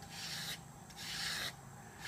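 Hand sanding of a wooden rudder spar with 60 grit sandpaper, two long raspy strokes with a short pause between them, close and fairly quiet.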